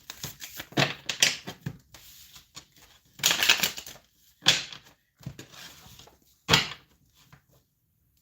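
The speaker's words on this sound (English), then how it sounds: "These are 2 tarot decks in one. And you just see me shuffle them together." Two tarot decks combined into one are shuffled together, giving bursts of quick riffling card flutter separated by short pauses, close and fairly quiet.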